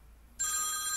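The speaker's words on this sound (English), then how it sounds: "And just like that, I got a phone call." A telephone bell starts ringing abruptly and keeps going, loud, bright and steady, marking an incoming call with no talk over it.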